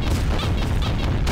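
A monster blowing up in Garry's Mod, heard as a loud, dense burst of booming, crashing noise that fills the whole short moment up close.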